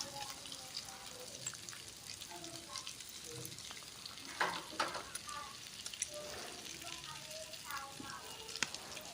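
Cumin spice is stirred into pork frying in a pan, making a steady close sizzle broken by scattered spoon scrapes and light pops throughout.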